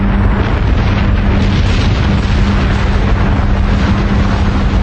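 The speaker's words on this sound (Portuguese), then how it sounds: "a detonação de uma arma de destruição em massa" A hydrogen bomb detonation: a massive, sustained roaring rumble with dense low-end energy and broad noise, loud and unbroken throughout with no voices.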